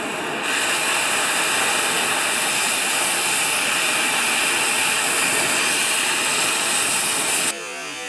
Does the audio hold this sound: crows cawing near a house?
no